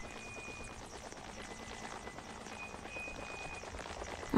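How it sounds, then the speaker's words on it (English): A large white helicopter, likely a toy, gives off a steady, fairly faint rotor whir with a buzzing rhythmic texture, ending on a louder bump. "I'm gonna drive this big white helicopter"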